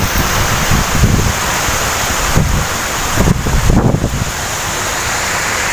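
Strong typhoon wind gusting in Borongan City, Eastern Samar: a loud continuous rushing roar battering the microphone, with heavier low buffets rising and falling throughout.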